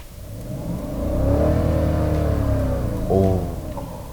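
The 5.0-litre engine of a Hyundai Equus VL500 limousine runs nearby, rising into a sustained rev, easing slightly, then giving a short second blip before settling.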